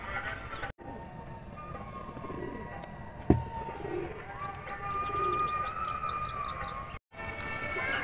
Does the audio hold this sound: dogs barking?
no